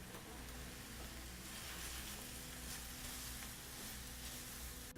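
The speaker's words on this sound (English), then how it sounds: "I have the chard and onions together, and I'm just letting those cook down." Chard and onions sizzling in a pan as they cook down for a quinoa frittata, a constant crackling hiss held close and fairly quiet, with no one speaking over it.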